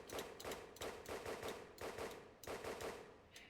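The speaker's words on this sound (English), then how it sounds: "This is the first and only gun to feature a ramping RPM." Ramping fire-rate gun in the Roblox shooter Aimblox, firing rapid bursts of shots in quick succession, with short pauses between volleys; no talking over the gunfire.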